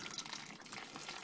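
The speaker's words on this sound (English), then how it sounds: "at this point I want to add a bit more water" Water poured into a pan of whiskey mash to thin it, a soft steady trickling and splashing that runs throughout, fairly quiet and with no talking.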